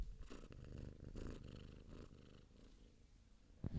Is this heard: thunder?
no